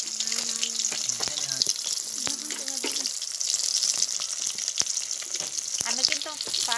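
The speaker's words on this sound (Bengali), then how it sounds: "তো আমি এটা ফ্রাই করে নিই, তারপর এটা দিয়ে রান্না করা হবে" Fish frying in a pan gives a steady, close sizzle and crackle throughout, with faint bursts of voice now and then.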